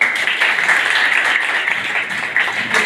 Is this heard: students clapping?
yes